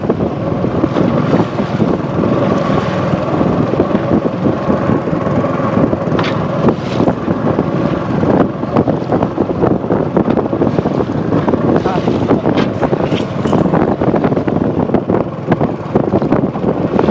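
Strong wind blows steadily outdoors for a long stretch, a loud continuous roar with gusty buffeting against the microphone and no clear speech.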